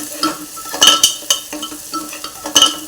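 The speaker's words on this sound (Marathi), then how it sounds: "मिरची परतून घेऊया दोन मिनिटभर लो फ्लेमवर परतायचं" Green chillies frying in a pan over a low flame with a steady soft sizzle, punctuated by several sharp clinks and scrapes of a stirring utensil against the pan, close up and without talk.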